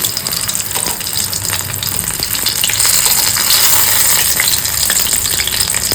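Bengali-style amudi fish chops fry in a pan with a loud, continuous sizzle and crackle that holds steady throughout, with no voices.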